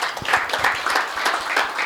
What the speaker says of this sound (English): Shall I give him another round of applause?